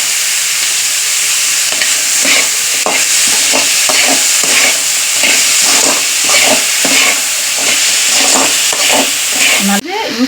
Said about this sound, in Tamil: நல்லா வதக்கிற வெங்காயம் கொஞ்சம் ப்ரௌனாக ஆகணும்